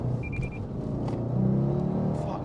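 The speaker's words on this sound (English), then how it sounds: "It's a V8 Cayman Turbo S" A V8 Porsche Cayman Turbo S sports car accelerating nearby, a steady loud engine rumble that builds slightly in the second half, with no talk over it.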